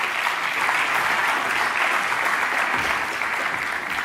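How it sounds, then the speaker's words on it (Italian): An audience applauds a speaker on stage at a regional festival, with dense, steady clapping from many hands at close range throughout, no one talking over it. "Un applauso."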